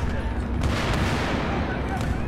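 A pistol fires in a military shooter video game, its shots blending into dense, continuous battlefield gunfire and explosions that fill the whole stretch.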